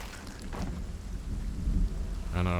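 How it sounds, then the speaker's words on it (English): A thunderstorm with steady rain roars close by, with low rumbling thunder rolling under the dense hiss of rainfall throughout, and no voices. "It's like, ah yes, the storm."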